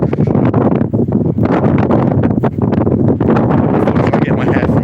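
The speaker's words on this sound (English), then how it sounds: "Enjoy the wind in my hair." Strong wind buffets the microphone during an outdoor morning walk in rainy weather, a constant loud roar with gusty surges, and a person talks over it.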